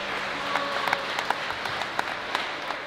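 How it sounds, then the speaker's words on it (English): Audience at a youth basketball event applauding steadily for three seconds, a dense wash of clapping with a few sharper individual claps standing out, moderately loud and without talk. "So, round of applause one more time."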